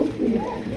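A grizzle pigeon coos once, a short low throaty murmur that rises and falls, heard close and fairly loud against faint background noise.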